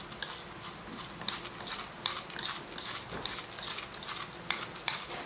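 Rice grains stirred with a little salt in a bowl or pot while making coconut rice, a steady scraping, rustling texture with soft clinks of a utensil, close and alone.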